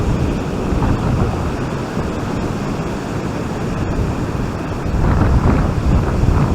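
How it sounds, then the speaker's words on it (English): Strong, chilly wind gusts buffet the microphone on the Holderness coast at Hornsea during cod fishing, a loud continuous rumbling roar with surf-like wash that swells slightly near the end. "that wind's a bit chilly"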